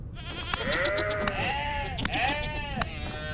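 Repeated bleats from a mountain goat in the Vintage Story video game, several wavering calls spaced across a few seconds over a steady background hum.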